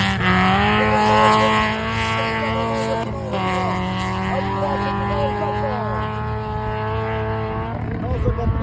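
A T1-category rally car revs and races along the La Moringa track during a national rally, the engine note rising and falling through gear changes, loud and near, under continuous commentary.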